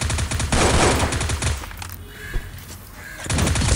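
Rapid machine-gun bursts from a mobile shooting video game in a 3 vs 1 fight, loud and dense, with a brief lull of quieter game sounds before firing resumes.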